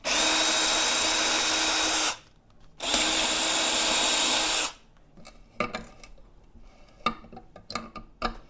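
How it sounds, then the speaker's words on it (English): Power drill boring out bolt holes on a brake booster delete plate for an 87-96 Dodge Dakota, two loud sustained bursts of whine separated by a short gap, followed by quiet clicks and handling noises. "I'll drill those out, tap them, and then thread the bolts through."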